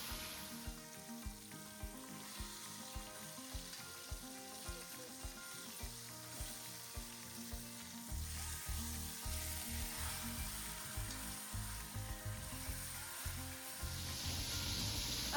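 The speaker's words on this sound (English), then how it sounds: "you'll just want to sear this for at least 2 to 3 minutes per side until it gets a deep golden brown on each side" Pot roast meat searing in a hot pot, a steady close sizzle and frying hiss under soft regular tapping and stirring sounds, with no voices.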